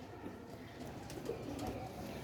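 Sialkoti pigeons coo faintly in a low, continuous murmur, distant and quiet against a soft background hush.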